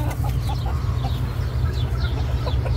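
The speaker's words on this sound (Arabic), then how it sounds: "كوشن استرالي دجاجتين وديج" Australian Cochin chickens, hens and a rooster, cluck softly in short scattered calls over a loud, steady low hum of background noise.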